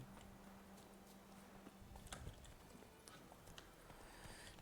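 Horse hooves clip-clop rapidly at a gallop in The Witcher 3, a steady rhythmic run of hoofbeats with game ambience underneath.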